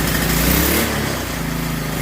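An old pressure washer's gasoline engine runs loud and close, a steady rough buzzing drone with a slight dip in pitch partway through, then holding even.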